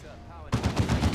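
Gunfire erupts in the Warhammer 40k game Dawn of War 2 during a 3v3 battle, a sudden rapid string of loud, close shots starting after a short quiet lead-in.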